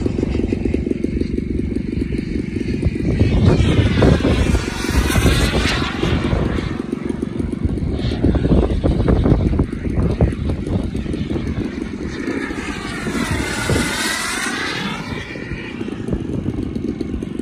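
A radio-controlled model airplane drones loudly and steadily overhead, its engine pitch sweeping up and down twice as it passes close by while coming in to land.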